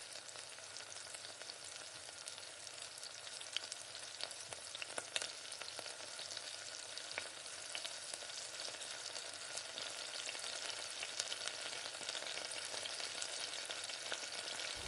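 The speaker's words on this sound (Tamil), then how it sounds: "மஞ்சத்தூள் லைட்டாக மஞ்சத்தூள் போட்டு நல்லா கலந்து விட்டுக்கோங்க" Turmeric and spice powder are stirred into a carrot stir-fry in a hot pan, giving a steady, close sizzle with faint scraping stir strokes throughout and no voices.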